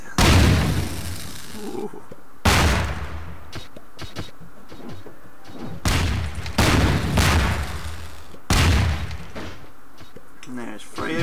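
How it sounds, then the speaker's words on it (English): Bombs in Melon Bomber go off as loud, close booms in quick clusters, several blasts in a row separated by short pauses, with a brief voice exclaiming between them. "Multi bombs down there."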